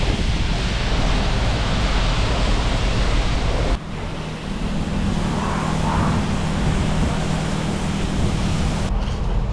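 Tire cleaner sprayed over an MGB GT barn find car outdoors: a loud, steady broadband hiss that runs almost the whole time, dipping briefly partway through before resuming.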